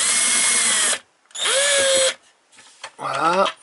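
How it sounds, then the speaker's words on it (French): Cordless power drill run in reverse to back screws out of a fragile factory-fitted plastic accessory, two loud sustained whirring bursts and a shorter third burst that rises and slows, close by with short pauses between. "Je vais vous montrer ça en dévissant."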